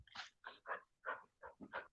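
Several playful dogs let out quiet whimpers and short yelping whines in quick bursts, about eight separate cries over two seconds, with brief pauses between them.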